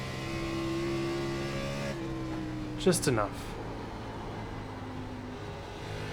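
A NASCAR Xfinity race car engine at Rockingham in iRacing drones steadily with sustained tonal whine that shifts pitch, heard under a voice, with a brief louder burst midway.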